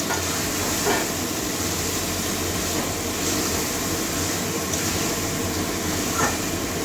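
Boiled taro and potato go into hot oil with spices and fry in a pan for a curry, a steady loud hiss and sizzle running throughout with faint clinks.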